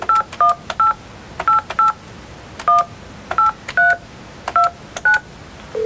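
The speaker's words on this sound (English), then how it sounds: "Then you dial your number." Keypad tones from a fax machine as a number is dialed: a steady sequence of short, loud two-tone beeps, each press distinct, paced evenly with brief pauses and no talking.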